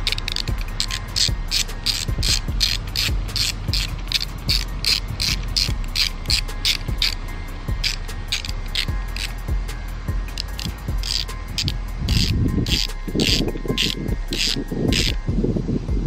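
Steady ratcheting clicks from a 5mm Allen bolt being tightened on a Cube Speed short shifter for a Nissan 240SX R154 gearbox, a rapid repeating tick that runs close and loud throughout, heavier near the end.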